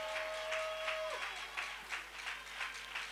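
A church congregation claps together in a steady, even rhythm, the sound faint and slightly distant. A sustained tone runs underneath briefly at first.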